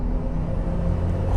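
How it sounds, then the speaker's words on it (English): Steady low engine rumble from a Mk2 SEAT Leon Cupra fitted with a Revo induction kit, a throaty intake drone, loud and continuous throughout, no voices. "you may have heard it in the background, is a Revo induction kit, and it sounds glorious"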